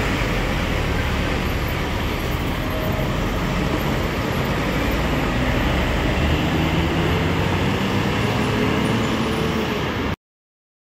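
Premium Gunung Harta buses, an Osor and a Volvo B11R, pull into Terminal Tidar in Magelang on a busy morning, a steady loud engine rumble and roadway noise that continue without a break.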